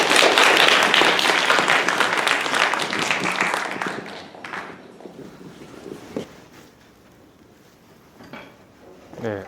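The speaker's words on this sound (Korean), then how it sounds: "큰 박수로 우리가 맞이해 주시기 바랍니다." An audience applauds to welcome a guest lecturer at a university computer engineering department's festival talk: a burst of dense, loud clapping for about four seconds, then trailing off into scattered claps and room noise.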